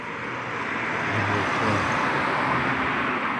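A taxi car passes along a city street at night, a broad rushing road noise that swells gently and holds steady, close and moderately loud, with no talk.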